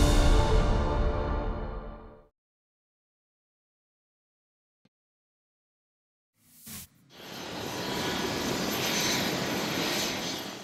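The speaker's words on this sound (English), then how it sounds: "Princess Anne arrived in Moncton by military helicopter." A military helicopter arrives in Moncton, its loud rotor-and-engine roar fading out, then a silent gap, then a short thump before the heavy roar returns and holds.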